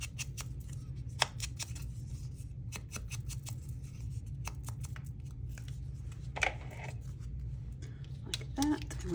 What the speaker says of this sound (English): Let's cut this off.